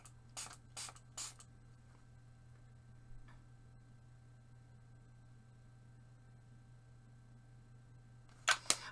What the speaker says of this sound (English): Do I dare spray it with water?